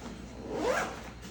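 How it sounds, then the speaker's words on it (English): A single quick, close zip pull runs along a side pocket of a Yeti Crossroad 35L backpack, a brief rasping sweep in a quiet room. "But each side of this bag has a little zipper."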